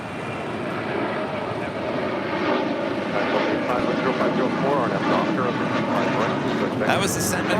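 A passenger airplane in Sandman People livery passes by on the north side, a loud, broad engine roar that swells and rushes through as people talk over it.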